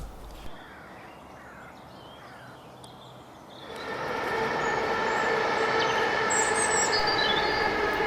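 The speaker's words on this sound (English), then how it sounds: "as you might have heard there, we're quite close to the railway line" A train rumbles past on a nearby railway line at Clifton Country Park, rising suddenly and staying loud, with a high metallic squeal of wheels over the steady roar.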